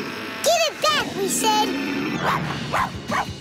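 A cartoon dog barks several times in quick succession, loud and close, mixed with a character's voice speaking over and between the barks.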